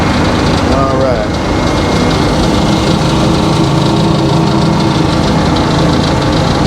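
An engine-driven sawmill with freshly sharpened saw teeth cuts through a long log, a loud, steady mechanical roar and whine running continuously, with a voice talking briefly under the noise near the start.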